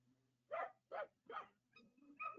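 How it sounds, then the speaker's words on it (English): A small dog gives three quick, high-pitched yaps close by, followed by a couple of thinner whiny yips. "That dog is small."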